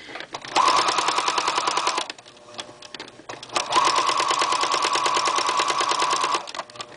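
A sewing machine stitches down quilt binding in two long, fast runs of rapid, even needle chatter, separated by a short pause, close and fairly loud.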